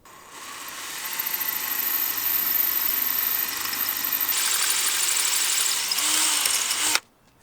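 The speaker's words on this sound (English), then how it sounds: "We're going to drill through the concrete and screw the pool coping into this 2x6." A power drill boring through concrete whines steadily and loudly, rising in pitch partway through, then stops abruptly near the end.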